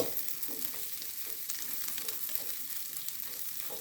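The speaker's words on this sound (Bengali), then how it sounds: "রসুন আর পেঁয়াজ একটু ভেজে নেব।" Thickly cut onion and garlic fry in a pan for vegetable noodles, a fairly quiet, even, continuous sizzle with light crackle throughout and no speech.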